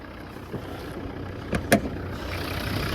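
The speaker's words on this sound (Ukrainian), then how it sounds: "зараз заведемо автомобіль, покажу, як працює двигун ще раз" A 2012 Volvo V60 D3 with a 2.0-litre five-cylinder diesel and automatic gearbox idles with a steady low rumble, and a couple of brief clicks or knocks stand out near the middle.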